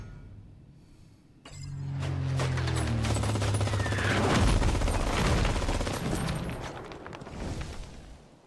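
MG42 machine gun in Call of Duty Mobile, a dense rattling burst of rapid shots kicking in after a quiet start and sustaining loudly for several seconds amid clinks and game effects.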